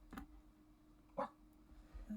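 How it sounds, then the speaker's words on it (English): A dog gives two short, faint barks about a second apart in a quiet indoor room, followed by a soft yip at the end. "Dog, I am annoyed with you. If you do not stop barking."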